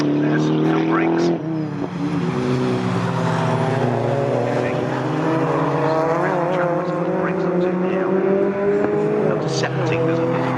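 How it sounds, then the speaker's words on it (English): Ford Puma race cars roar past on the Snetterton circuit, a continuous loud engine drone with rising and falling pitch as the cars sweep by, under steady commentary from a race announcer. "the next two Pumas coming through as well, which is Mark Kirby"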